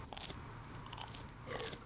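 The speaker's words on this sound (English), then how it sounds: "you'll be able to hear how crunchy these donuts are" Hard, crunchy donuts eaten in a video game: repeated crisp bites and chewing crunches, close and fairly quiet, over a low steady background drone.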